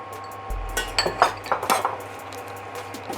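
Spicy Isaan-style pork salad (nam tok moo) with shallots, spring onion, coriander and culantro is tossed in a bowl with utensils. Close, irregular clinks and scrapes come in a quick burst, then soften, with no voices.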